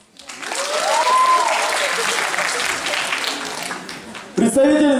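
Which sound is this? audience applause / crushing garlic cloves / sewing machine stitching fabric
audience applause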